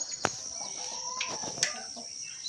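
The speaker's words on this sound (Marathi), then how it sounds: "हे आमच्या छोट्याशा अशा कोंबड्या आहेत" Small flock of backyard hens clucking and calling near and far under a steady high hiss, with a few sharp louder cries and brief wing or movement noises, no talk.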